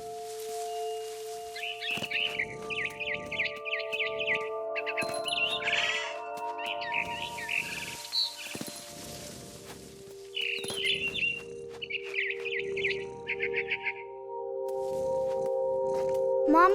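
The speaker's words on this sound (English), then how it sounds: "Then I heard chirping outside my window. It was a barn swallow going back to her nest." A barn swallow chirps in repeated short bursts over a sustained musical drone in What Remains of Edith Finch, the calls coming in clustered sequences amid faint rustling and soft steps.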